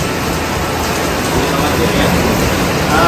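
Steady rain hisses down as scouts practice pitching dome tents, a dense, even wash of noise throughout, with faint voices under it.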